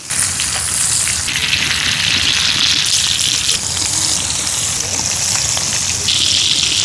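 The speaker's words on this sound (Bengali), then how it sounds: "সয়াবিন তেল তেল গরম হয়ে গেছে মাছগুলো দিয়ে দিছি একটু গরম তেল মাছের উপরে দিয়ে দিই" Hilsa fish frying in hot soybean oil gives a loud, steady, close sizzle with crackling spatter that runs throughout without pause.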